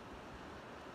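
Atlantic Ocean surf on the seaside in Ghana, a faint continuous wash of waves and wind, brief and distant with no voices.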